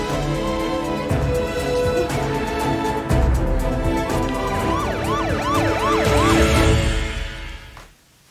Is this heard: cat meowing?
no